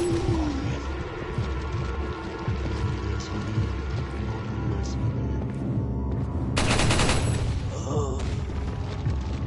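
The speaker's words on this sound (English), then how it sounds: "So I'll just shoot them when they get closer." Gunshots ring out in the video game Resident Evil 4, with bursts of fire layered over continuous game music and ambience, and one loud, sharp blast standing out late in the clip.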